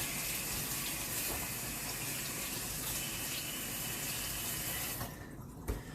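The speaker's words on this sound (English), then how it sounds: "I'm going to rinse my hands again, because I just like to." A kitchen tap runs steadily while hands are rinsed under it, a loud, continuous close gush of water that cuts off near the end, leaving a short quieter patch.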